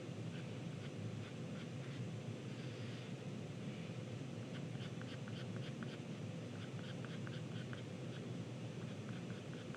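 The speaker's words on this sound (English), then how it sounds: "you're just flicking the pencil out" A charcoal pencil flicks across paper in quick strokes, leaving faint, light scratchy ticks in short bursts over a steady broadband hiss, with no talking.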